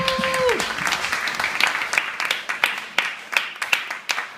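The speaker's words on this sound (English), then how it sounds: "So give yourself a round of applause." Applause from an audience at a yogi's talk during a music festival in Leicester, opening with a brief voice and a sliding tone before thinning out into sparse, distinct claps.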